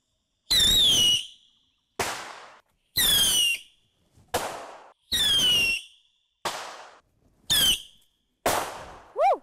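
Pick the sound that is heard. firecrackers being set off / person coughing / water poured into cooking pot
firecrackers being set off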